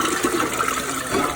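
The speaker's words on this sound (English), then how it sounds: "I'm going to try flushing it again" A toilet fitted with a FluidMaster 400ARHRK fill valve kit flushes, a close, continuous rush of swirling water with no voices.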